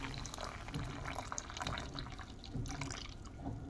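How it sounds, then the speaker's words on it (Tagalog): Fresh milk pours quietly into a fenugreek powder drink, a soft, steady trickle with small splashes and drips, faint and close with no voices. "ngayon, lalagyan ko siya ng gatas na fresh milk"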